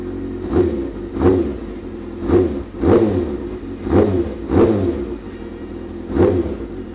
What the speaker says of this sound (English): I notice a little bit of a hiccup when I twist the throttle.